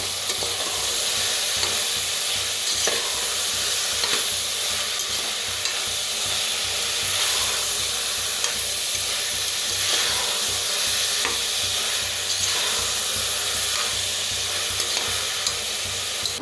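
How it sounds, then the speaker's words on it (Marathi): Sprouted moong beans roast and sizzle in a hot pan with potatoes, a steady loud frying hiss throughout, broken by frequent scraping stirs of a spatula, with no talking. "मुग्याचे मोड स्वच्छ धुवून घेतलं होतं आपल्याला भाजून घेऊया"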